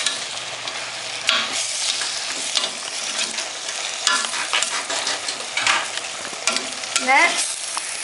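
Onion and garlic frying in a pan while a spoon stirs them steadily, scraping and clattering against the metal over a constant sizzle, with several sharper knocks and scrapes standing out close by.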